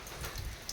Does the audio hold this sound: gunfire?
no